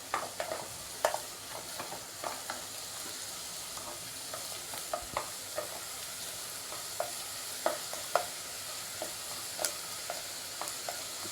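Mustard seeds crackle and pop in hot oil with frying onion for a prawn mustard curry, a soft steady sizzle broken by irregular sharp pops, close and fairly quiet, no voices.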